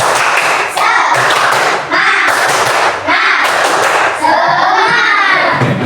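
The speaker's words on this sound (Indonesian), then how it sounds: "Coba tepuk semangat." Classroom of students performing a rhythmic 'tepuk semangat' spirit clap led by their teacher, loud patterned bursts of hand claps in repeating phrases separated by short pauses, close and sharp, with voices chanting along.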